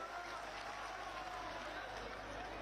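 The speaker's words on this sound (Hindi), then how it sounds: "जोरदार ताली बजाए मोदी जी, योगी जी के इस समय के लिए" Applause from a crowd at a political election rally, a steady wash of clapping heard from a distance, faint and even throughout with no distinct individual claps.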